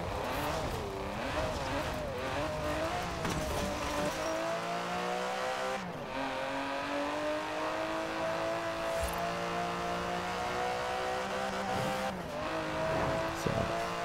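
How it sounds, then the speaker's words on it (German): Aston Martin downsized turbocharged V12 in a racing video game, a steady engine drone with rising and falling revs, shifting tones and brief tire noise, with a commentator talking faintly at times. "Immerhin ein V12. Zwar downsizing mit Turbolader, weniger Hubraum, aber trotzdem ein sehr schöner Motor,"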